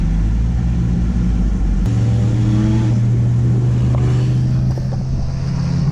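1985 Ford Mustang LX 5.0 convertible with an odd exhaust setup and a running-hot engine, a steady low V8 rumble shifting in pitch as it drives, with wind noise and no talk.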